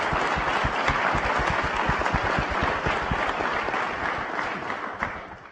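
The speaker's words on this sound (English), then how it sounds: "just a moment of applause and appreciation for the men and women of the FBI" Audience applause in appreciation of the men and women of the FBI at a White House K-12 school cybersecurity event, a dense, steady round of clapping from a sizable crowd that holds throughout, then slightly eases toward the end.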